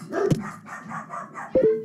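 A dog barks in a room with people nearby, a couple of sharp barks standing out against busy background chatter and handling noise.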